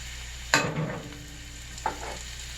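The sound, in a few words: mushrooms frying in oil and butter in a pan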